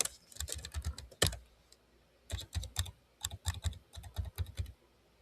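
Rapid typing on a computer keyboard, close and crisp, in dense bursts of clicks with a short pause, including one sharper heavier keystroke.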